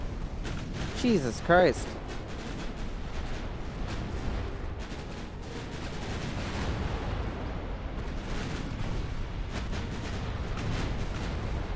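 Torpedo strike and rumbling explosions aboard warships in the naval battle game Ultimate Admiral: Dreadnoughts, with a sharp burst early on, then a sustained roaring din while a man exclaims over it.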